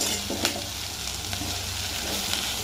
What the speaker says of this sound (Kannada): ಇಲ್ಲಿ ಕಾಯಿ ತುರಿನ ಹಾಕ್ಕೊಂಡು ಒಂದು ರೌಂಡ್ ಬಾಡಿಸ್ಕೊಂಡ್ಮೇಲೆ